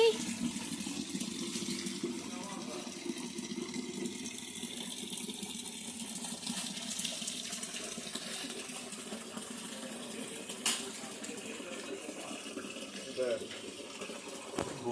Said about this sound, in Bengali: পুরো বালতি দিয়ে চান করিয়ে দিয়েছে